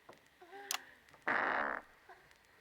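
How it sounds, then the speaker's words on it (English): A single fart sounds midway, a loud, buzzy blast lasting about half a second, preceded by a few faint squeaky tones and followed by near quiet. "You farted."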